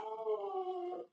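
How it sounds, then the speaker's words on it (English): A female dog gives a single drawn-out, howling bark-like vocalization, loud and close, lasting about a second before cutting off into silence. "What is she barking at now?"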